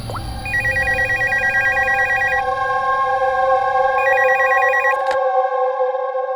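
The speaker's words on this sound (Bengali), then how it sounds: "স্টোর ম্যানেজারকে ফোন করছি।" A telephone rings while calling a store manager, loud warbling bursts in a steady repeating pattern, a long run and then a shorter one, ending with an abrupt cut-off.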